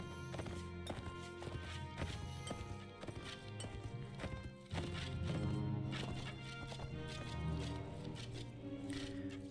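Rapid hoof clip-clop of a horse galloping in Mount and Blade Warband, loud and steady over game music and combat noise, with a brief whinny.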